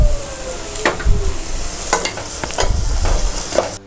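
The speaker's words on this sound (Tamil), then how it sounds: "இப்போ இது ரெண்டையும் நல்லா வதக்கி விட்டுக்கலாம்." Chopped beans and carrots sizzle and crackle in a hot pan while a utensil stirs and scrapes at irregular moments, loud and close.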